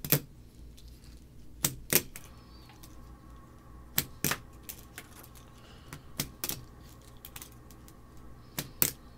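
Sharp wooden clacks and taps come from a Tech Deck fingerboard doing tricks, arriving in irregular bursts close by over a quiet background. Nobody speaks.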